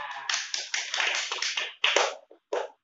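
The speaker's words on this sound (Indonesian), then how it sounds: "Tepuk tangan untuk semuanya." A primary school class claps for classmates in short, uneven bursts of hand claps, fairly close, with brief gaps and a final separate burst at the end.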